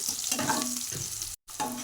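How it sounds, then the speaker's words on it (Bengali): Chopped onion and green chili fry in oil with a brief, fairly soft hiss and sizzle, which cuts out for an instant near the end and then resumes. "অল্প করে আমি পেঁয়াজ কুচি আর কাঁচা লঙ্কা কেটে নিলাম এগুলো একটু ভেজে নিতে হবে লাল লাল লাল করে"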